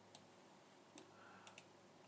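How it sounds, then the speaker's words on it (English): A computer mouse button clicks four times, sharp, quiet and isolated taps against faint room hiss, two of them in quick succession near the end. "I'm clicking on the wrong button"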